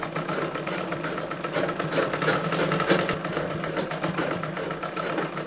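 A sewing machine runs a strengthening stitch along a blouse side seam, a steady close motorized whir that holds at an even level for several seconds with no speech.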